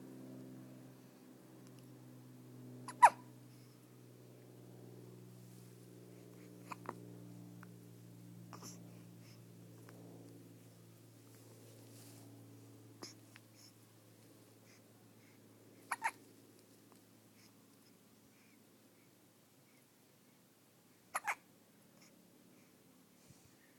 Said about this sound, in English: Poor baby has hiccups.